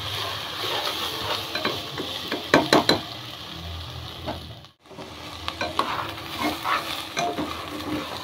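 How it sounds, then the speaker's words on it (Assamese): Rice fries in a pan until lightly browned, hissing and sizzling steadily while a spoon stirs and scrapes through it in uneven strokes, with one brief drop to near silence midway. "মই এইখিনি ভাজি থাকিম"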